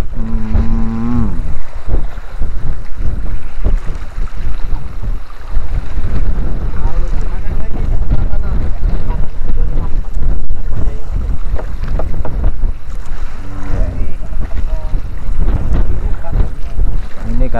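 Wind and waves batter a boat at sea in the Bali Strait during rain, with loud buffeting gusts on the microphone and rushing water, while people talk throughout.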